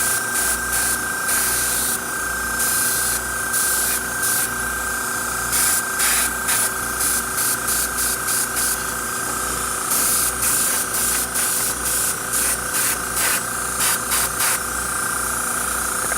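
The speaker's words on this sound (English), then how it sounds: "So now we're gonna spray this from this side" An airbrush sprays in repeated short bursts of hissing air over a steady compressor hum, close by, with brief pauses between bursts, coating one side of a ribbed piece.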